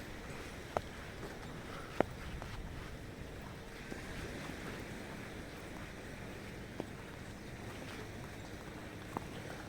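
Sea waves washing onto a wide, soft sandy beach at Khao Takiap, heard as a soft, steady surf wash with wind buffeting the microphone and a few faint clicks, no talking.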